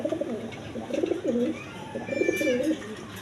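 Pigeons coo close by in soft, repeated throaty phrases, with faint chirps from other birds in the background.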